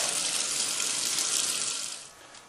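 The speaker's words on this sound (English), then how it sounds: "Wash your hands before you start your procedure using soap and water." A water tap running steadily into a sink while hands are washed with soap before a PICC line dressing change in a clinical setting, a close, even rush of water that drops off toward the end.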